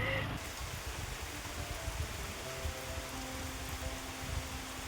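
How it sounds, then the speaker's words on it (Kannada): Heavy rain pours down steadily on a muddy road, a dense continuous hiss filling the scene without break. "ಮಳೆ ಬಂದೇ ಬಿಡ್ತು."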